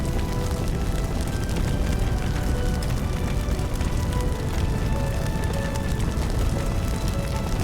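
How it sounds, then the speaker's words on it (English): Spreading fire in the video game Firefighting Simulator - The Squad, a dense, steady crackling roar that stays loud throughout, with faint tonal game sounds running beneath it. "just watch the fire spread"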